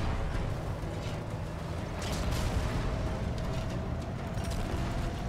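Tank from Halo 2 rumbling steadily as it drives, with dense mechanical clatter and occasional heavier bursts from firing, loud and continuous with no talk.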